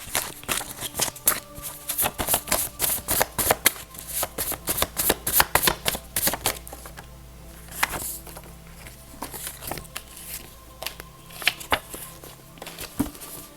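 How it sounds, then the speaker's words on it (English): Tarot cards shuffled by hand at close range in quick, rhythmic bursts of riffling and patting that slow to sparser taps, with no talk. "I would like to pull some cards"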